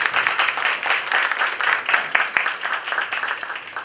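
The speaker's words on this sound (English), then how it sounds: "I think a big round of applause for Dr. Manjari." Audience applause fills the hall after a parenting talk on adolescents, a steady dense wash of many hands clapping at moderate volume throughout, with no speech over it.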